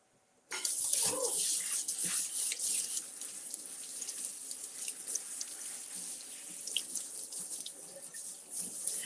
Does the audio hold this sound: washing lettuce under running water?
yes